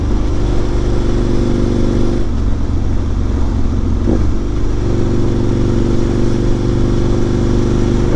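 An Aprilia motorcycle rides the Isle of Man TT road course with a steady, loud engine drone and wind roar throughout. The pitch shifts slightly around the middle.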